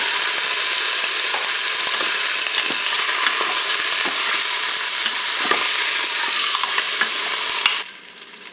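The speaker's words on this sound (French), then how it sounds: "il s'agit de faire dorer le rôti sur toutes ses faces" A pork roast searing in olive oil inside a Cookeo electric pot, a loud continuous sizzle with soft taps and shifts, cutting down abruptly near the end.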